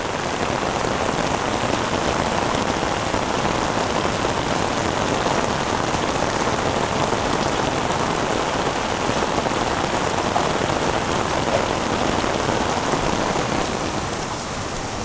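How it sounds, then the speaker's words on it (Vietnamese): Heavy tropical downpour drums steadily on roofs and ground around an old flooded house in rural Vietnam, a dense continuous roar of rain that stays loud and unbroken, with no voices. "Ủa mưa to quá."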